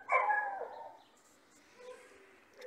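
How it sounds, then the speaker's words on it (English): A dog in Mexico gives a short, close yelping whine at the start, then the sound fades to a quieter background murmur. "And you see a lot of dogs running around"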